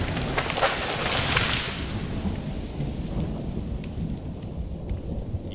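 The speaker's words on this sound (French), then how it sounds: "puis poussa un cri en entendant le tonnerre rugir juste au-dessus de sa tête" Thunder rolls overhead in a heavy thunderstorm, a loud broad rumble fading over several seconds above steady rain hitting the ground.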